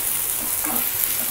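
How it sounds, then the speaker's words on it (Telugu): Onions sizzling in hot oil in a pan for onion salan, a steady, dense frying hiss that fills the whole stretch with faint stirring movement underneath. "ఉల్లిపాయలు మొత్తం వేసి వేగనివ్వాలి"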